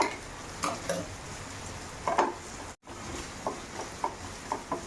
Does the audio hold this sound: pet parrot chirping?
no